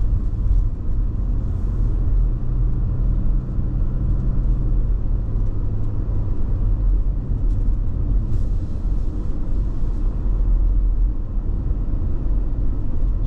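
A car cruising along city streets in St. Louis, Missouri, heard from inside as a steady low road rumble and engine drone that holds evenly throughout with no talking.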